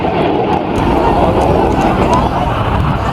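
A Spitfire fighter roars overhead at a seaside air display in Jersey, a loud, steady engine drone filling the air with faint crowd murmur beneath.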